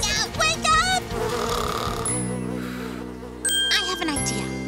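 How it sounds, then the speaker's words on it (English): Cartoon bees buzz in a thin, insistent drone that fades in and out, mixed with music and a voice. "Bees will wake her up."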